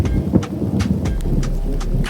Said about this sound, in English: Fat thunderstorm in the south of France, another one.